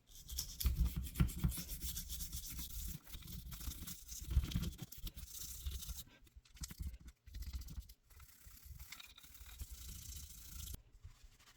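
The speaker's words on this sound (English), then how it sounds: "And then just take your brush" A stiff brush scrubs back and forth against a Smith & Wesson Equalizer pistol slide, rough rasping strokes with short pauses, close up and fairly quiet.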